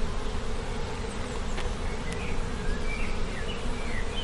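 Honeybees buzz steadily in an open hive full of capped honey, stored feed and pollen, a dense close drone with no talk, with occasional single bees whining past.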